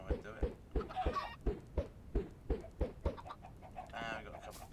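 Chickens packed into a coop in the Minecraft video game cluck in a steady run of short, evenly spaced calls, close and clear, with a denser flurry of clucking near the end.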